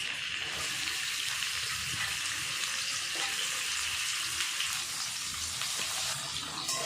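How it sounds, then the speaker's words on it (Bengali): Chopped onions hiss and sizzle steadily in a hot pan of oil while being fried for a dum aloo potato curry, a close, continuous crackling frying sound with no speech over it. "এবার দিয়ে দেবো কেটে রাখা পেঁয়াজ"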